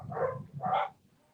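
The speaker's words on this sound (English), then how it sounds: "The dogs are going nuts." Dogs, including a visiting dog being looked after, bark indoors: two close, loud woofs in a row, then quiet.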